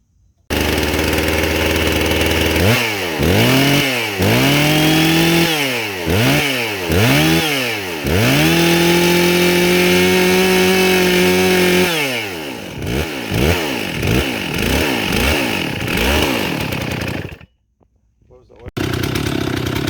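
Stihl 066 chainsaw with a swapped engine sputters through several pull-start attempts, then catches and revs hard in repeated bursts before settling, loud and close, cutting off briefly near the end.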